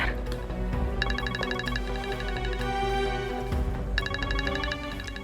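Phone ringtone playing a repeating bright electronic melody in bursts over a low background bed, fairly loud and close, with no talk.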